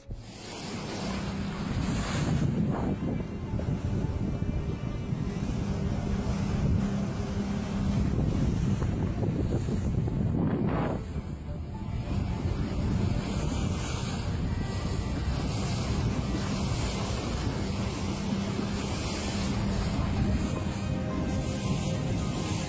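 Open sea water washes and churns steadily for over twenty seconds, filmed from a boat above the line where two differently coloured bodies of seawater meet. Loud, close, unbroken surf-like rush is heavily mixed with wind buffeting the microphone, with no talking.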